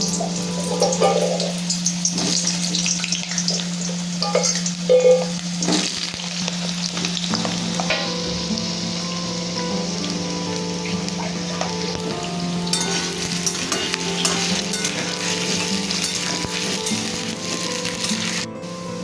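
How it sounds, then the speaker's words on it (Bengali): Potatoes sizzle steadily in hot oil in a pan, cooked for a jackfruit curry, with a continuous close crackle, occasional louder spatters and clinks early on, and a constant low hum underneath. "এঁচোড়ের জন্য আলুগুলোকে এবার আমি ভেজে নিচ্ছি।"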